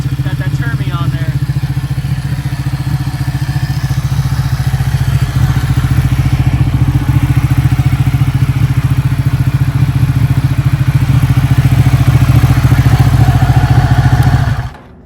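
A motorcycle with an aftermarket exhaust idles loudly with a deep, throbbing exhaust rumble, steady for a long stretch before cutting off abruptly at the end.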